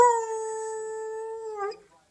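A dog lets out a single clear, sustained howl at close range, holding a steady pitch for over a second before wavering and breaking off into quiet.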